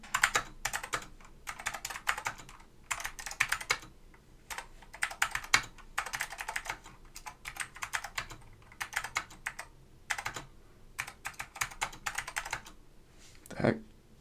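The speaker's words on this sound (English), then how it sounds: "You guys can see my terrible typing skills." Typing on a portable PC keyboard with Alps SKCM White switches, a fast uneven run of close, crisp clicky keystrokes in bursts and short pauses, fairly loud and without talk.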